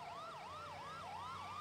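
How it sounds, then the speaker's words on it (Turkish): A loud wailing police siren in a video game sweeps up and down in a steady, rapid cycle, continuous and close, with no voices. "Tamam, siren kapatalım. Siren kapatalım."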